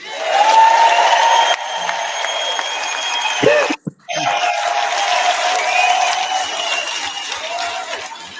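A crowd at a political event applauds and cheers a party leader, steady clapping that cuts off abruptly partway through, then resumes briefly at a lower level.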